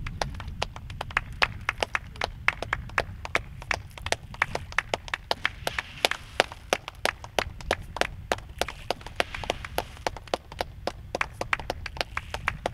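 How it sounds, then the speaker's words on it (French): Rapid hand clapping used to call fish to feeding time on a Benin campus fish pond, a steady run of sharp close claps repeating many times per second, crisp and dense throughout. "Il faut les appeler à l'applaudissement et au battage des mains"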